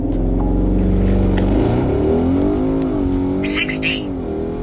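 A 1000 bhp Manthey Racing Porsche GT2 RS accelerates hard, its loud, steady engine drone dipping briefly and then climbing in pitch as it pulls through the revs.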